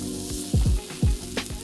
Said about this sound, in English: It's got a very gentle sizzle to it.